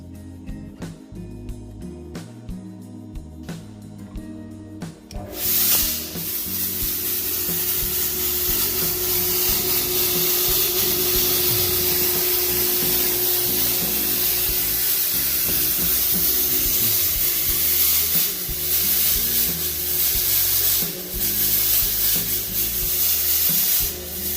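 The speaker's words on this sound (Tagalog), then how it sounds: "after 3 rounds of 25 seconds fogging" A 1500-watt Home Vision fog machine sprays disinfectant fog in a steady, loud, continuous hiss that starts abruptly after a few seconds of quieter background and runs unbroken to the end.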